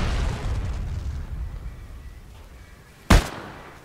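A single sharp, loud sniper rifle shot cracks out near the end, over quieter rumbling game ambience, in the WWII shooter Heroes & Generals.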